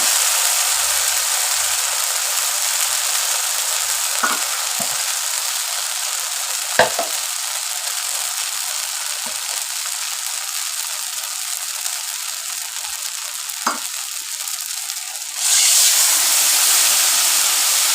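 Water poured into hot frying spices for potol posto, a steady loud sizzle and steam hiss with a few sharp crackles and stirring knocks, swelling louder toward the end.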